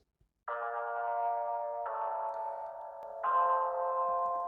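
Sustained electronic keyboard chords, three held tones changing at steady intervals, bright and clean with no talking.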